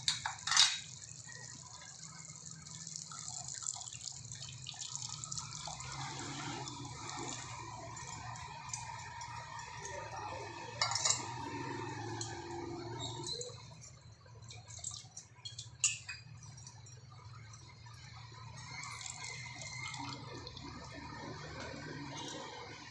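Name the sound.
adding tamarind water to cooking vegetables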